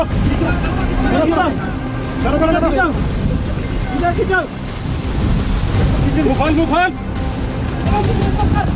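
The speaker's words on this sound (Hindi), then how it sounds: "भारी बारिश से कैंचीधाम के पास बहने वाली नदी में सैलाब आ गया" A river near Kainchi Dham by Nainital, flooded after heavy rain, roars in a loud, unbroken wash of rushing water, with voices speaking over it throughout.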